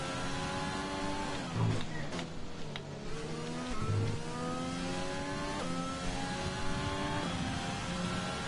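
Formula One race car engine in F1 2020, the Chinese Grand Prix, droning steadily with rising and falling pitch as it revs and shifts through gears while the car runs over a curb, loud and continuous throughout.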